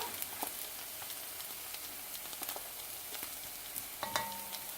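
Minced garlic and smoked paprika sizzle and fry in a pan, a steady hissing crackle with scattered sharp pops and a few utensil clicks near the end, no voices.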